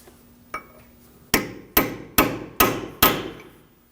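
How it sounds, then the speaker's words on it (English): A hammer strikes a punch against an axle nut on a 2013-2015 Subaru XV Crosstrek six times, a single tap followed by five evenly spaced, ringing metal blows close by. "Using a hammer and a punch or a chisel, we're going to indent the nut"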